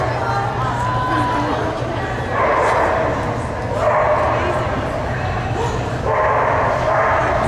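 A dog barks in repeated bursts over a steady background murmur of voices, fairly close and loud.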